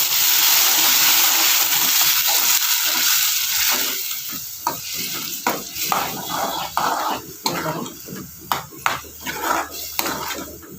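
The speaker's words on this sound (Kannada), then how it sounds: "ನಂತರ ಸ್ವಲ್ಪ ನೀರನ್ನು ಸಹ ಸೇರಿಸ್ಕೊತಾ ಇದ್ದೀನಿ." Masala with fresh coconut and tomato fries in a pan: a loud steady sizzle softens about a third of the way through as water goes in, followed by a run of close, sharp stirring scrapes.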